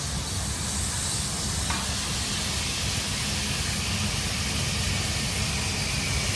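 Shiitake mushrooms frying in hot oil for a Thai stir-fried noodle dish, a constant loud sizzling hiss that holds evenly from start to finish.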